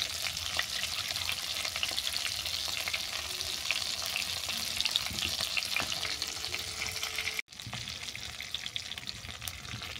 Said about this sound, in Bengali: মাছের মাথাগুলো উল্টো পাল্টে বাদামি করে ভাজা হয়ে গেছে, এগুলো তেল থেকে নামিয়ে নিচ্ছি